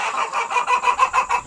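A backyard flock of chickens with a rooster and guinea fowl clucks in a rapid, rhythmic series of loud, close calls, pulsing steadily for the whole stretch without any talk.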